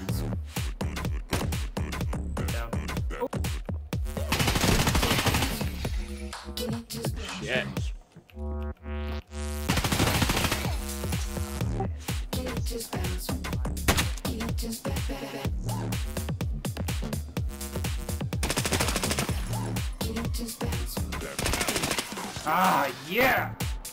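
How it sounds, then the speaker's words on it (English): Video game gunfire, rapid bursts of shots and automatic fire in dense volleys with brief pauses, loud and close throughout, mixed with game sounds. "We're getting shot at."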